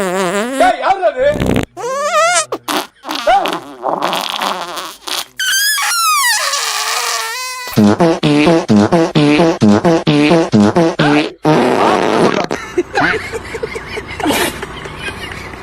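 Fart sound effects edited into a Tamil political meme troll, repeated in bursts of squeaky, wavering tones mixed with loud speech and music throughout.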